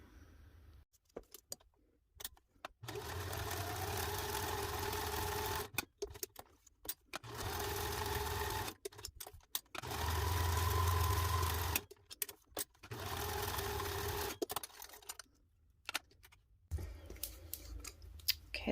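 A sewing machine stitches around a paper frame in several sustained runs of rapid, even whirring, each lasting a few seconds, separated by quiet pauses and small handling clicks.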